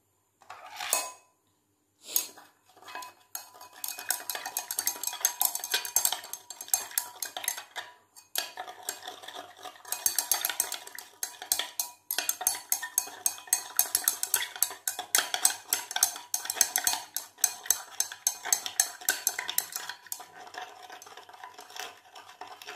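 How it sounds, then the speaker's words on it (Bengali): Salt is stirred into water with a metal spoon, giving a long run of rapid scraping and clinking against the container, close and fairly loud, with a few isolated clinks at the start and brief pauses between stirring bursts. "এবার এই জলের মধ্যে খানিকটা লবণ আমরা মিশিয়ে দেবো এবং ভালো করে জলের মধ্যে ঘেঁটে দেবো"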